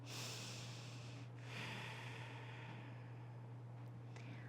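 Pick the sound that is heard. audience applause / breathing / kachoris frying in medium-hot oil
breathing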